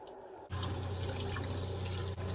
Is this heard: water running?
yes